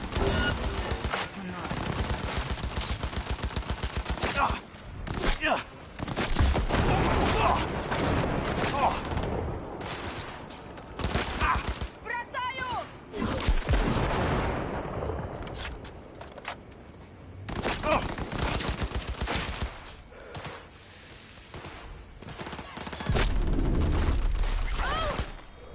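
Rapid automatic gunfire and bursts in the video game Cyberpunk 2077, dense loud volleys with brief gaps over roughly twenty-five seconds, mixed with mechanical clatter and a voice talking at times.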